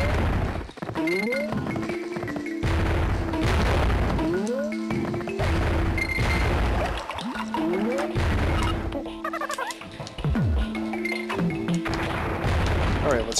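Pothole bombs in Donkey Kong Country 3 burst in repeated loud crashes and booms among chirpy game sound effects and music, with a voice talking over them.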